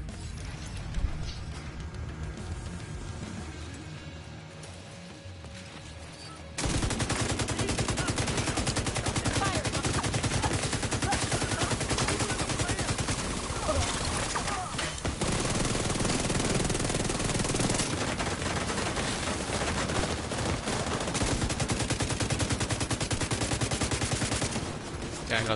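Dense, sustained gunfire from enemy forces in The Division 2's Iron Horse raid, with sharp rapid bursts layered into a loud, continuous barrage after a quieter opening, a voice talking briefly over it.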